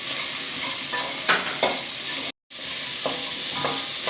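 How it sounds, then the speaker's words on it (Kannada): Ash gourd stir-fried with turmeric and salt in a hot pan, a steady close sizzle with intermittent scraping stirs and a brief dropout partway through. "ಇದು ಸ್ವಲ್ಪ ಚೆನ್ನಾಗಿ ಫ್ರೈ ಮಾಡೋಣ."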